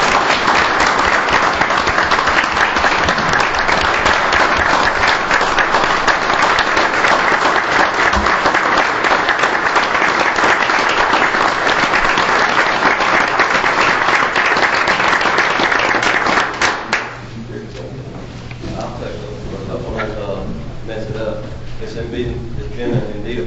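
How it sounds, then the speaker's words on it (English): Loud, sustained applause fills a city council meeting in Greer for nearly seventeen seconds, then stops abruptly, leaving quieter room sound and a low hum. "Please join me in giving a round of applause to Master Sergeant Martin L. Bowen."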